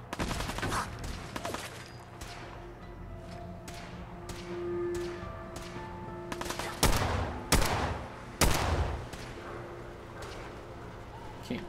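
Pistol gunfire in the VR sandbox game ModBox: a few scattered shots early on, then three sharp, loud bangs in quick succession near the end, over a busy game background.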